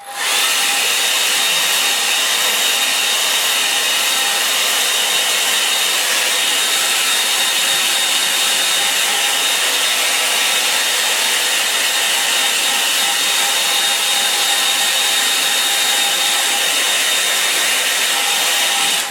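Hair dryer blowing steadily and loudly on a watercolour painting of a river scene, a continuous broadband whoosh with a faint whine, running unbroken for the whole stretch with no talk.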